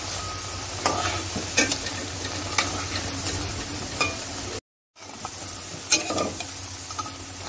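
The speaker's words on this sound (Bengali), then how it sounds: "পেঁয়াজগুলো ভাজা হয়ে গেছে।" Onion fritters (piyaju) sizzle steadily in hot oil, a continuous crackling fry broken by occasional clinks and stirring scrapes, with a brief dropout partway through.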